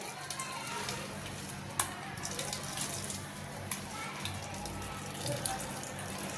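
Water trickles and drips as salted grated cabbage is squeezed firmly by hand, a steady soft wet patter with faint occasional handling noises and no clear talk.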